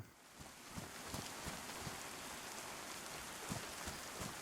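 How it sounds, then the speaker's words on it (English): Steady rain falls in DayZ, a dense continuous hiss with scattered drop-like patters, moderately loud throughout with no talking. "It's a bit rainy, a bit moist."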